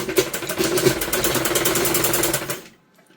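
A sewing machine runs in one close, steady burst of stitching, attaching a sleeve to a simple suit, then stops abruptly.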